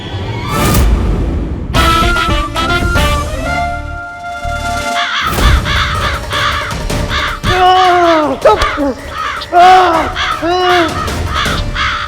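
Several crows caw loudly and repeatedly at close range in a series of harsh, overlapping calls.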